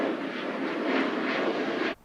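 Jet airplanes pass low overhead near a Paris airport, a loud, continuous broadband roar that holds steady for about two seconds before cutting off abruptly.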